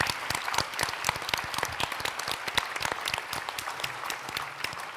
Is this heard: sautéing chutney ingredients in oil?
no